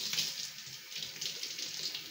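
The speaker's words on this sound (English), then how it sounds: "we're gonna give them a quick rinse with cool water" Cool water runs into a jar of alfalfa sprouts for a quick rinse, a soft, steady trickling stream with slight rhythmic swells, heard close but fairly quiet.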